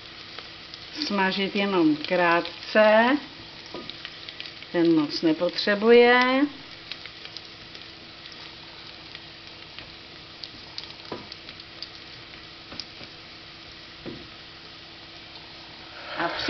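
Sliced garlic frying with browning onion in a pan, a faint steady sizzle that runs throughout, with a person talking over it early on and then quiet frying with occasional soft stirring taps.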